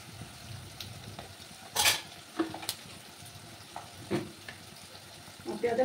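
Onions fry over a raised gas flame until browned, a soft low sizzle broken by a few sharp clinks and scrapes of a utensil against the pan.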